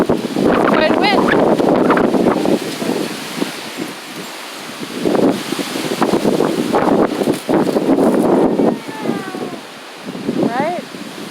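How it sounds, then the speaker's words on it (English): Strong New Mexico wind gusts and buffets loudly against a microphone outdoors, rising and falling in heavy bursts with rustling, while a person talks and chickens cluck faintly. "This is the wind of New Mexico."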